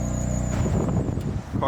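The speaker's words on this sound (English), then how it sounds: "We got a belt squeak." Thin steady high squeal of a belt on a used BMW engine, running over the idling motor's low hum, with a voice briefly talking near the end.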